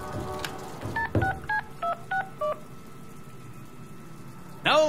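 A run of telephone keypad tones dials a number in the Deadpool video game: six short, evenly spaced dual-tone beeps over a low game hum, followed by a brief ringing tone at the end.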